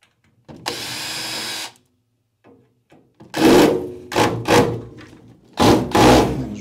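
Power drill backing screws out of an incubator, a sustained whirring run followed by several shorter bursts with brief pauses between them, close and fairly loud.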